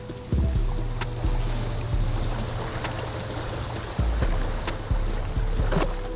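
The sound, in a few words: water waves on a river during a kayak trip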